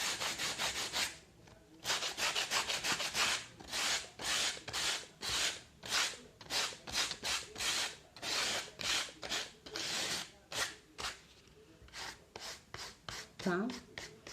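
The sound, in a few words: sandpaper lightly sanding a recycled craft piece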